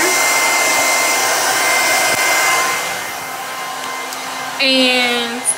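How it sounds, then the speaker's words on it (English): A hair dryer blows steadily into a towel wrapped around a wet wig, a loud close whir whose pitch shifts partway through, then briefly rises at the end. "put the blow dryer, put your hair, and then fold it over."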